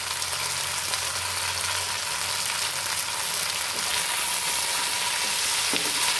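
Prawns chilli sautéing in a pan, a steady loud sizzle and hiss of frying that runs without a break, with faint stirring clatter near the end and no talking.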